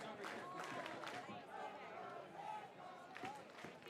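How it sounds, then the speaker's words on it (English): Baseball crowd at a Portland Pickles versus Kamloops NorthPaws game making noise, a faint distant murmur of chatter and scattered shouts with a few sharper bursts. "Crowd making some noise."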